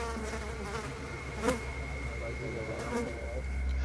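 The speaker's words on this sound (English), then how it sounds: "You can hear the flies buzzing around it." Flies buzz steadily around a lifeless alien body in a backrooms hallway, a continuous close insect drone with small swells in loudness through the whole stretch.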